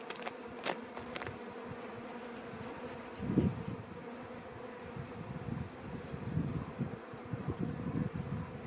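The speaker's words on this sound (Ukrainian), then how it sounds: "бджілок тут багато у нас" A steady, dense buzzing of many honeybees around a hive close by, with a few louder bees passing near the microphone.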